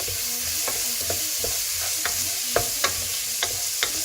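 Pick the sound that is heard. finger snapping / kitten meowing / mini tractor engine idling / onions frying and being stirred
onions frying and being stirred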